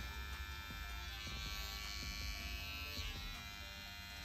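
A close OneBlade electric shaver buzzes steadily with a high whine, its tone shifting slightly as it moves, with small clicks and rubs underneath.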